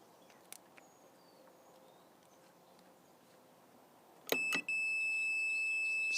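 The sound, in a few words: multimeter continuity test beeping on a closed circuit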